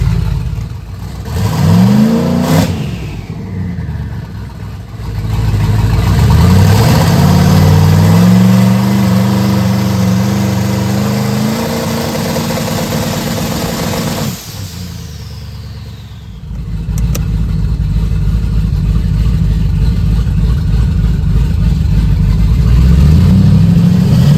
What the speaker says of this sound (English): Put it on the brake, couple revs, put it on the brake, see how it feels.